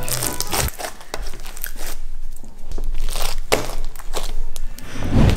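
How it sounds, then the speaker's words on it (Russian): Crunchy bead-filled slime squeezed and kneaded by hand, giving a steady run of close, loud crackling and crunching pops throughout, with no talk. "Хрустит. Ну, потому что у тебя там дофига шариков."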